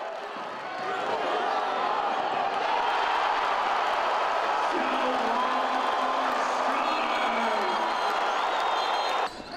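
A basketball crowd at a men's college game between Augustana and Elmhurst roars after a dunk, a loud, sustained cheer filling the gym with no break.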